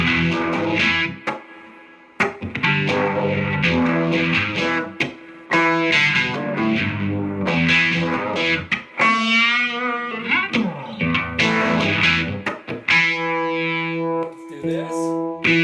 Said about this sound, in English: let's throw some distortion in.